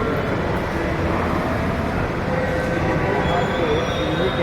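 A Jaipur metro train at a station gives a loud, continuous rumble with thin wheel squeals rising near the end, heard close by.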